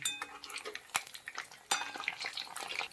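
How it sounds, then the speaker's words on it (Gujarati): Dana muthiya dumplings fry in hot oil, giving a close crackling sizzle with metal utensil clinks and scrapes as they are turned in the pan. "હવે આપણે એમાં એક એક મુઠિયા તળી લઈશું."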